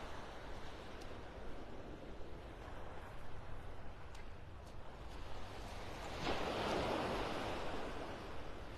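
Surf rolls in steadily at Vanderbilt Beach Park in Naples, Florida, with wind buffeting the microphone and a broad wash of waves swelling louder near the end.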